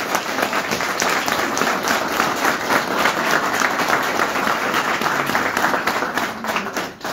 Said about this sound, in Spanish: Le damos un fuerte aplauso a nuestra Madre de Dios.